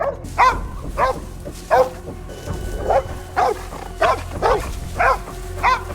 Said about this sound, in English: Battling the dogs is the worst. There's nothing there! Shut up, dog!